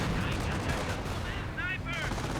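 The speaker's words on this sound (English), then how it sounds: "Sherman Pink and Hellcat firing away." Sherman and Hellcat tank guns firing in the Company of Heroes video game, dense booming gunfire and battle noise filling the whole stretch, with brief whistling tones near the end.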